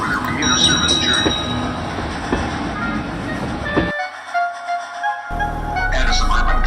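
A toy Ertl Thomas and Friends locomotive, Toby, sets off with his coach Henrietta in a stop-motion scene. A loud, continuous railway rumble and clatter is cut by a second of silence, then resumes.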